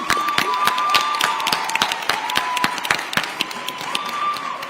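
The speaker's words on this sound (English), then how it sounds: "Let's give Dadirai one more round of applause." Audience at a Forbes 30 Under 30 summit applauding, individual claps standing out sharply against a steady patter of applause, with a faint tone running underneath.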